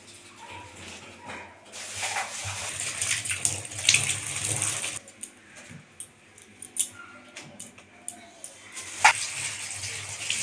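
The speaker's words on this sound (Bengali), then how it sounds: "শাকটা জাস্ট ধুয়ে রাখছি, আবারও ধুতে হবে" Leafy winter greens rinsed under a running kitchen tap on a winter morning: bursts of splashing water come and go with gaps of quieter handling between them, and a faint dog bark may be heard in the background.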